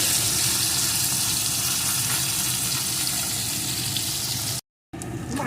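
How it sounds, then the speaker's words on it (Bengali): Salted, turmeric-coated puti fish frying in hot oil, a steady dense sizzle that stays loud and even throughout, with a brief dropout near the end. "এখন মাছগুলোকে এপিট করে খুব ভেজে নেব"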